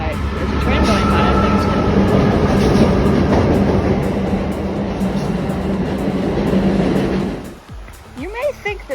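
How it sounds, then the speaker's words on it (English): A train rolls past close to a rocky running trail, a loud sustained rumble and rattle that fills most of the stretch before cutting off abruptly near the end, leaving brief voices. "there's a train going by."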